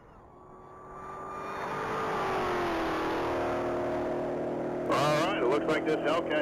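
A blue 2022 Dodge Charger SRT Hellcat accelerating hard at the Texas Mile top-speed event, its engine note climbing steadily and loudly before a gusty rush of wind near the end.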